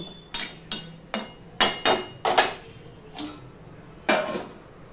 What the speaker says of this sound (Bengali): এবার আমি আবারও ঢাকা দিয়ে দেব।